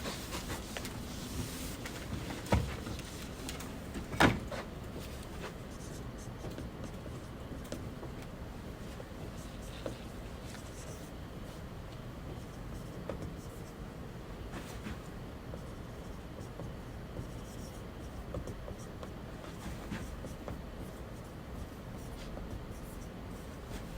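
Someone writes out by hand during a lecture on constraint programming, a long stretch of faint scratchy strokes with a couple of sharp taps early on under steady room noise.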